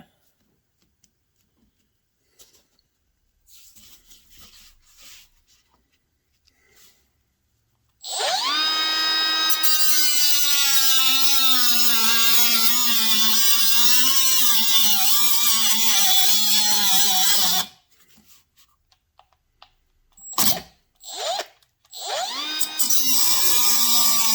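Handheld power tool with forward and reverse grinding metal and throwing sparks during a Harley handlebar bag mod, a loud, steady high-pitched whine with wavering pitch for about ten seconds, then brief short bursts.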